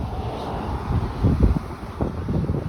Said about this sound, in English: that fucking wind's nasty.